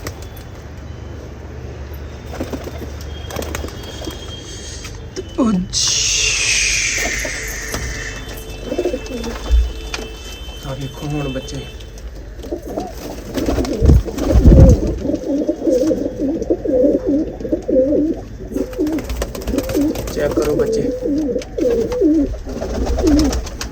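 Ferozpuri pigeons coo softly in a loft amid rustling and wing flaps, with someone talking over them at times.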